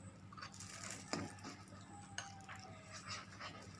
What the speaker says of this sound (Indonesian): Kita tumis sampai mengeluarkan aroma.